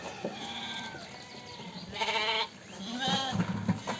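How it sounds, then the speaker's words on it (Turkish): Sheep and lambs bleat nearby, two or three wavering calls overlapping against a quiet barn background. "Tam koyun olacak endamda kuzular."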